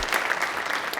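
A brief, steady stretch of crowd applause at a Rooster Booster breakfast gathering in Owensboro, dense clapping with no pause.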